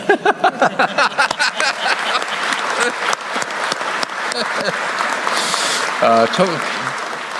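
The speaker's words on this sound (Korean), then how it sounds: "중소기업부도 저기 수출도 많이 했다는데 박수 한번 해야지" Applause at a government briefing, with a room of officials clapping steadily and loudly for about seven seconds. Talk and scattered voices run underneath, and a brief burst of speech comes near the end.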